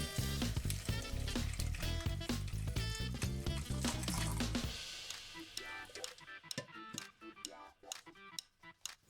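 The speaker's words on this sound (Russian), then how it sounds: "И заливаем пол-литрами воды." Half a litre of water poured into a jug holding dried dill, garlic and cloves gives a loud, steady gushing fill for about five seconds, then fades into scattered drips and light clinks.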